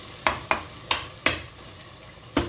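Onions with ginger and garlic sautéing in a pan for Tamil tomato rice, heard as five sharp spatula scrapes against the pan over a faint, soft sizzle, with no talk.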